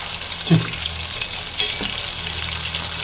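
Prawns frying in a pan over a medium gas flame: a loud, steady, close sizzle with a couple of soft stirring scrapes near the start.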